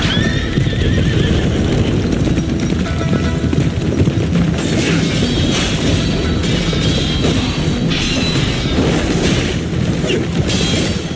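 Horses gallop in a chase sequence from the video game Phantom Blade Zero, with rapid hoofbeats, neighing and whinnying over a loud, dense action mix with booms and crashes throughout.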